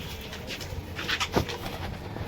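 Pakistani high flyer pigeons on a rooftop giving soft, low coos amid faint outdoor background noise, with a brief flutter-like burst in the middle of the short stretch.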